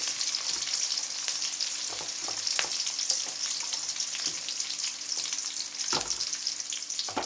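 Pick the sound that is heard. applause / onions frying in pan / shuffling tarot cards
onions frying in pan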